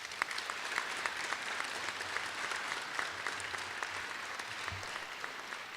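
Steady applause from an audience at a middle school awards ceremony honoring 8th grade students, dense clapping holding evenly throughout at moderate distance with no talk over it.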